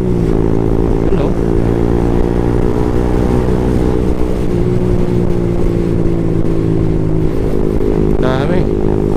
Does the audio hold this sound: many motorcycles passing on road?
yes